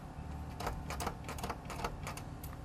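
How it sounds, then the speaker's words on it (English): A DESLOC D110 Plus smart lock locking a door manually from its lock button, a faint run of quick mechanical clicks and whirring ticks over a couple of seconds, close up with no talk. "we can always lock the door manually by hitting the lock button"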